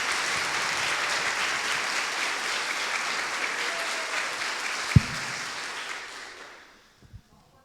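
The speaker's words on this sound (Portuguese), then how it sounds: "Oh, aplauda!" A church congregation applauds in a sustained wash of clapping that carries on with one sharp knock midway, then fades to near silence with scattered final claps.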